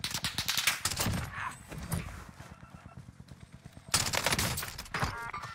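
Rapid gunfire rattles through a first-person shooter video game in bursts and automatic volleys, with sharp shots and loud stretches split by a quieter gap. No one speaks.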